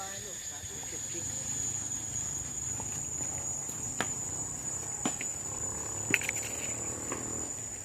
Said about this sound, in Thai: มีเสียงจักรจันด้วย